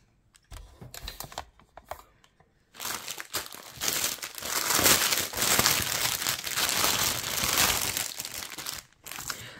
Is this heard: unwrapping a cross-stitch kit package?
yes